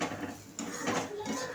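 Browned grated coconut being stirred and scraped in an old black cast-iron kadhai, a steady metallic scraping and clinking of spoon against pan, close and continuous, with no talking.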